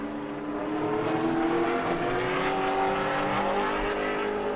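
A Pro Late Model race car laps New Smyrna during qualifying, its engine a loud, sustained roar that holds steady and shifts in pitch through the corners. The sound is constant over the whole stretch, with no one talking.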